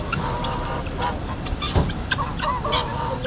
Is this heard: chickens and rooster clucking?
yes